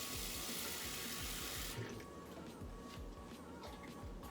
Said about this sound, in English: And then I'm gonna add some water.